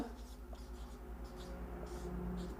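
Faint scratchy strokes of writing on a board during a Hindi alphabet class on compound consonants, coming in short bursts over a low steady hum.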